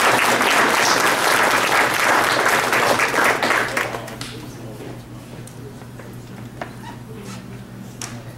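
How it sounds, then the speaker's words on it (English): A crowd applauds freshmen wrestlers at a school wrestling awards program, with loud, dense clapping for about four seconds that thins and fades into scattered claps and room murmur. "One more round of applause for them."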